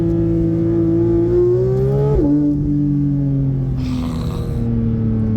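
A Porsche 911 GT3 with a titanium exhaust revs in second gear, a loud, close engine note climbing steadily, dipping briefly at a shift, then holding a strong drone with a rising whoosh near the end.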